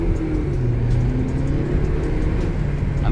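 A 2022 Haval H6 GT SUV accelerates in normal mode, heard from inside as a steady engine drone and road rumble with a pitch that climbs gradually, without talk.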